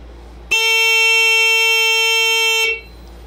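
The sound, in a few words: scoreboard built-in buzzer sounding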